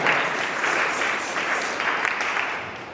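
A church congregation clapping loudly together in a dense, continuous burst of applause that fills the room for a few seconds.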